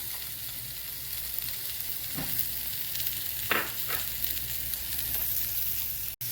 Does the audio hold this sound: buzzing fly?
no